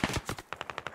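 Automatic gunfire in a military shooter video game, a close, loud burst of rapid evenly spaced shots lasting about a second, with no voices.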